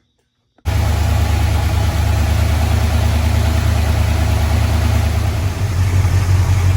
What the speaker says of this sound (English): I'm gonna go ahead and start it up and let it start warming up